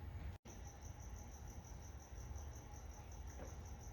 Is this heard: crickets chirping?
yes